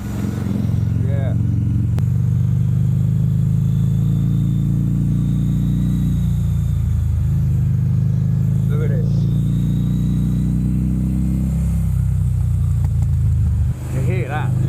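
A Harley-Davidson motorcycle that had sat unused for eight months runs with a loud, steady, deep engine rumble close up, its pitch shifting a little and someone speaking briefly over it.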